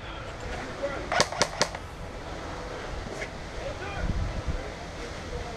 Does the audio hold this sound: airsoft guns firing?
yes